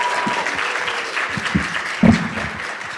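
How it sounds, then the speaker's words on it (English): Audience applause for students after presentations at a Three Minute Thesis university competition, a steady dense clatter of many hands clapping throughout, moderately loud and close, with a slightly stronger burst near the middle and no talking. "Let's give another round of applause for our students"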